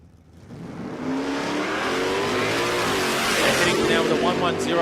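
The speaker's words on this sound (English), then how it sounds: "Looks like the big Chevelle's got the power though across the finish line." A Chevelle drag car launches down the strip at a drag racing championship qualifying round, its engine roaring up loud and sustained after a brief quiet start and rising in pitch as it pulls away. Race commentary runs beneath it.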